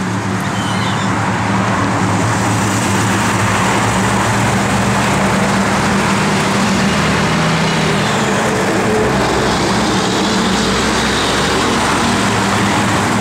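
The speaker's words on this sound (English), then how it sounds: "Heater does work, guys. Blower motor works." The heater blower motor of a 1968 Plymouth Road Runner running: a loud, steady, broadband whoosh of air and fan noise that holds constant for the whole stretch, with no talking.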